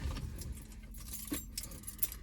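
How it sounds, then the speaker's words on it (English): Keys jingle and clink in a few quick metallic rattles against a low background hum, close by. "Gotta grab my keys."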